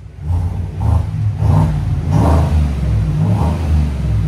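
Loud, up-close blips from the Black Widow Widow Maker exhaust on a 2024 Chevy Tahoe's 5.3L V8: about five rhythmic rev pulses punch above a deep, steady rumble.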